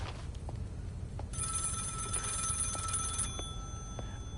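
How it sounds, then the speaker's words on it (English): A telephone rings inside the hotel in the horror game Maid of Sker, a steady bright electric bell tone that sounds for about two seconds over low ambient rumble, with a few faint clicks around it. "I've taken note that the phone is ringing"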